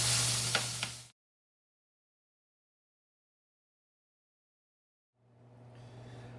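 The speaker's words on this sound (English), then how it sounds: "we're just going to slide in a nice even layer of the spatzle. Get a nice and crispy brown." Spätzle sizzles and fries in a pan, crisping up with a steady, faint hiss that cuts out to silence and then returns.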